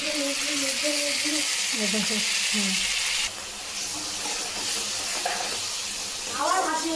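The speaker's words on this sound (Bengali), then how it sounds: "দেখো এবার মশলাটাকে আমি ভেজে নিচ্ছি।" Spice paste fries with onions in a pan over a low-to-medium gas flame for a jackfruit curry, giving a steady, bright hiss throughout while a voice talks over it.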